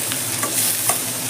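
Onions frying in butter while being stirred, the start of a gravy for methi paneer masala: a steady sizzle lasting just over a second, broken by a few short scraping strokes of the stirring spoon.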